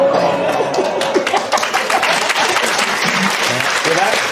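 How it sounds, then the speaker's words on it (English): A British comedy panel show's studio audience bursts into loud, sustained applause. Murmurs and a few chuckles mix into the close, dense clapping. "Round of applause."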